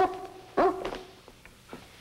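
A dog barks sharply while being dusted with flea powder, one loud bark followed by a few quieter yips and whimpers, close and clear.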